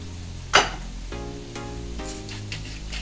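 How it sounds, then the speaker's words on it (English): An egg frying in hot oil in a pan, a sharp crackle as it hits, then steady sizzling with a few light clinks of utensils against the pan. "we're gonna fry each egg separately and get a nice fried egg to accompany the meal"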